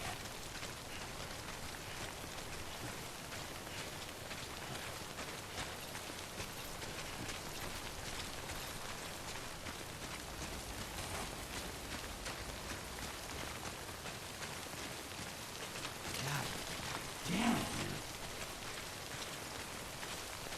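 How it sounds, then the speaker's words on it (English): Steady rain pours in Death Stranding, a dense, even hiss of drops on the ground that runs unbroken throughout, with a brief swell near the end. "Rain sucks."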